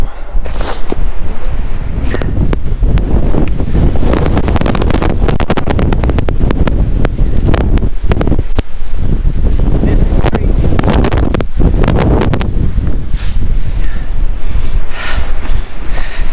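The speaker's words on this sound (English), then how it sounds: "try to catch between wind gusts and move" Strong wind gusting over 70 mph roars and buffets the microphone in loud, rumbling gusts that barely let up on Guadalupe Peak, Texas, with a voice faintly audible beneath.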